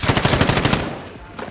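Rapid bursts of M13 assault rifle fire from the video game Call of Duty Warzone, loud and close, a rhythmic string of shots that stops partway through and gives way to a lower rumble with one last faint crack.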